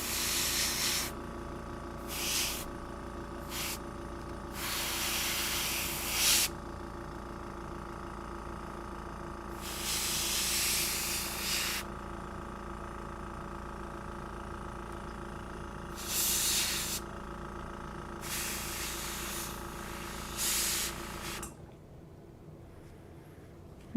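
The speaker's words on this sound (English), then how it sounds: "Now I've got my new airbrush. My new airbrush compressor" An airbrush sprays paint onto small figures in several hissing bursts of one to five seconds, while its compressor hums steadily underneath and then cuts off at the end.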